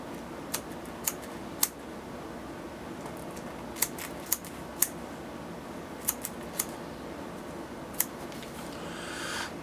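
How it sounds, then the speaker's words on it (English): Sharp scissors snip through moose hide in a series of about a dozen crisp, irregular clicks close by, over a steady low room hiss. "I'm going to cut this hide off."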